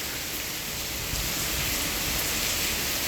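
Heavy morning rain pours down in Wankaner, a dense, continuous roar of downpour that stays loud and even throughout with no voices.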